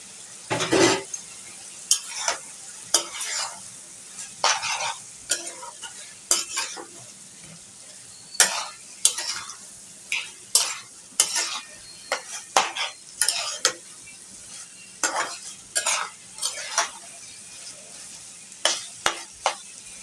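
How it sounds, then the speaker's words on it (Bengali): Boiled tripe being stirred and fried in a pan with spices, repeated scraping strokes of a utensil against the pan in an irregular rhythm over a soft steady sizzle, close and without talk. "এখন নেড়ে চেড়ে বটগুলোকে ভাজা ভাজা করে নেব।"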